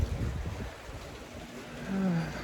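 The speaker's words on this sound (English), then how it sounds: "We had a pool put in during the pandemic, and you can hear all the water features going off." Backyard pool water features, bubblers and jets, rush continuously outdoors in icy winter weather, a steady broadband wash with a slight swell near the end.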